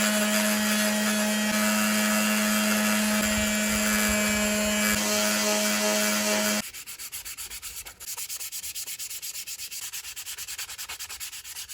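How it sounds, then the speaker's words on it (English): A Dremel rotary tool and an automatic sander with 80 grit paper roughly sand a large scale model of the pink FAB 1 Rolls-Royce. A loud steady whine with a strong hum runs for about six seconds, then a lower, rougher scrubbing sound takes over. "This has only been done with the Dremel tool, the automatic sander, and 80 grit paper"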